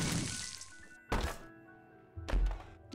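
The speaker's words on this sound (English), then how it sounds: "So let's bomb here." A bomb detonates in The Binding of Isaac with a dull, low thunk, followed by a second similar blast shortly after, each fading out over a soft ringing tail.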